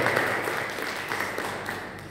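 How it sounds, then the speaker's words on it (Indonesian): A church congregation at a young adults' service at GPPS Kaliasin in Surabaya claps, a brief dense patter of applause filling the room. "Kasih tepuk tangan."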